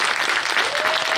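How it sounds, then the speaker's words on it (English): Conference audience applauding in a hall in India, a dense, steady wash of many hands clapping that fills the short moment at full loudness with no gaps. "Round of applause."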